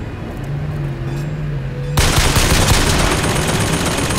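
Hostile turret gunfire in Bioshock Infinite, starting abruptly partway through as a loud, sustained automatic burst that keeps hammering without letup after a quieter stretch of game ambience.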